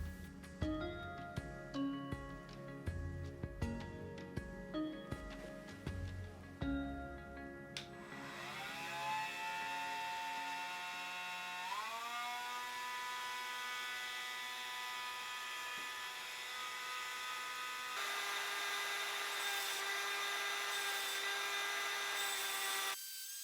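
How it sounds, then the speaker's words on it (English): Cordless Dremel rotary tool cutting a seashell flower stem outdoors: a steady high-pitched whine that shifts pitch as load changes, preceded by a busier stretch of clattering, tonal noise at the start. "My cordless Dremel came to the rescue."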